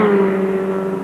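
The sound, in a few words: Formula Ford racing cars on the Brands Hatch top straight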